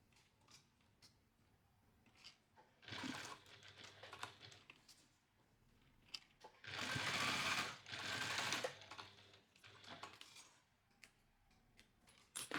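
Sewing machine top stitching around the perimeter of a compact crossbody or toiletry bag, running in short bursts and two longer runs of rapid mechanical chatter, close and moderately loud, with small clicks and handling noises between stitches and no talking.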